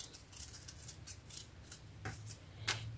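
Scissors snipping jute burlap fabric for a vintage-themed craft project, heard as a series of faint, quick crisp cuts and rustles up close over a low background hum.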